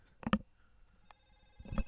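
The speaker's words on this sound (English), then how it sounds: "Oh, our phone is ringing." A phone rings in The Sims video game, two short electronic ring bursts separated by a pause, fairly clear and close with no talk.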